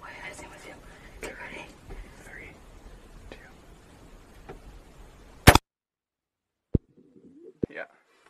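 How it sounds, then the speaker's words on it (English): A single sharp rifle shot rings out during a snowy deer hunt, loud and abrupt after quiet whispering, followed by a couple of fainter knocks and a brief low voice. "He just shot that."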